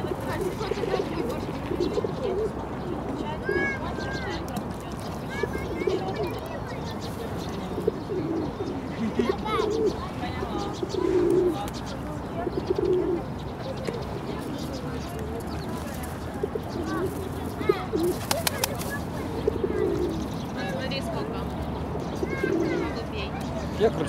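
Pigeons coo softly and repeatedly among busy outdoor background noise at an evening amusement park in Dnipro, with people talking nearby throughout.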